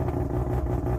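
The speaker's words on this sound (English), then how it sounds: "Did you hear the brap brap brap brap brap? This is what everyone wants when they have a rotary car." Mazda RX-7 FD rotary engine idling with a steady, low lumpy pulse, close and continuous with no talk.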